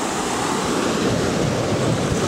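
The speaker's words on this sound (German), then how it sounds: "Da sind wir am Meer." Continuous rushing of sea waves at Venice mixed with wind buffeting the microphone, a steady broadband wash with no voices.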